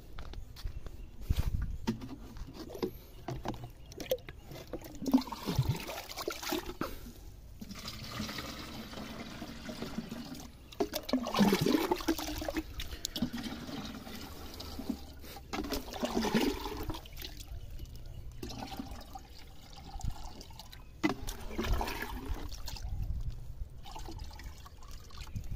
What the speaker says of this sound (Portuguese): Deixa eu botar mais água aqui.